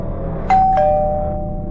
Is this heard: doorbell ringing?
yes